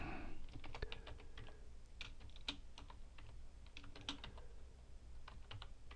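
Fingers tapping out a new username on a computer keyboard in short, irregular bursts of close, crisp key clicks with brief pauses between, no voices.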